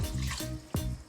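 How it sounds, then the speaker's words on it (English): Water splashes into a cooking pot on the stove while making dinuguan, coming in short, uneven gushing bursts close by. "We're gonna go ahead and add the 2 cups of water to our pot."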